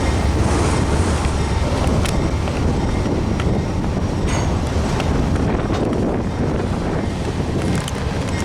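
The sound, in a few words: train passing, railfanning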